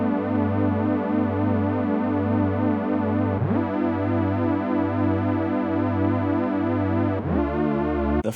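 Sine-like R&B synthesizer key chords hold a steady, gently pulsing tone, with two portamento glides sweeping the pitch between chords midway and near the end. No voices are present.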